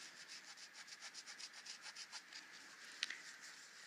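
Chalk is rubbed back and forth over a glaze batik surface in quick, even strokes, about a dozen soft scratchy passes close up and faint, with a sharp small tap near the end.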